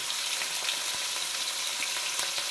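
Onions roasting over gentle heat until lightly browned for kaleji masala, a continuous even hiss of oil sizzling close up, with a few faint ticks of stirring.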